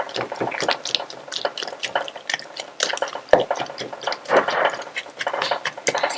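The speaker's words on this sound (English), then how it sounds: "I'm making sure that I'm getting or breaking all the frozen chunks of frozen with the help of my spatula or spoon." A spatula stirs and breaks up frozen spinach chunks in a pan, producing irregular wet squishing, scraping and soft liquid sounds close by.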